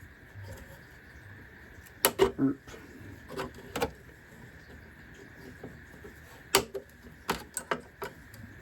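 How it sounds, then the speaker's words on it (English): Wire cutters snip motor leads off an RC Abrams tank's circuit board, giving several sharp close clicks in small clusters against a quiet room background. "So I'm going to cut these off the circuit board."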